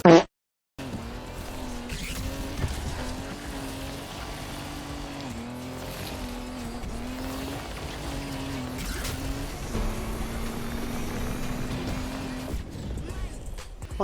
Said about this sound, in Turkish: Drift etkinliği. Hem de A sınıfı.